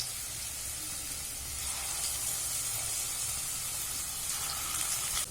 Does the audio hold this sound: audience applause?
no